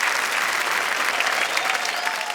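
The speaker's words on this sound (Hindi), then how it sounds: "ये ताली बजाने वाली बात है।" Loud, dense audience applause at a Hindi comedy poetry show, a continuous crowd clapping that holds steady throughout.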